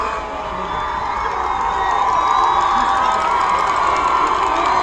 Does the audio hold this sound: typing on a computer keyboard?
no